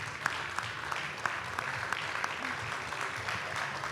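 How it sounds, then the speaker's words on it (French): Audience clapping at an outdoor political festival gathering, the Fête de l'Huma in France, a steady mass of applause with scattered sharper claps, moderately distant and continuous throughout. "on a la chance d'avoir aujourd'hui François, que je vous demande d'applaudir pour la FPS,"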